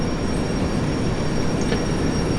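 A train in the Derail Valley simulator slows under steady braking, giving a continuous broadband rumble of wheels on rail with a thin high squeal running through it, with no voices.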